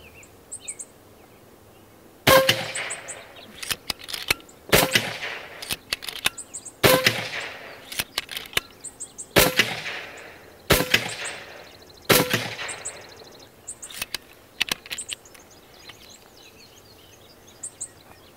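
Shots from an Evanix Tactical Sniper air rifle, a loud airgun. About seven sharp, close cracks ring out at fairly even intervals, each with a short ringing decay, and no one talks between them.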